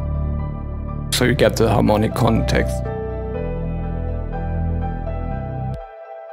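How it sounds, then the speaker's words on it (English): A deep, sustained Reese synth bass drones low and steady beneath someone talking briefly, continuing alone afterward before cutting off abruptly. "And this Reese bass"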